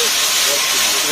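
Red chili sauce hits a hot wok at a Chinese food van, giving a loud, steady, steamy hiss that fills the whole short moment without a break.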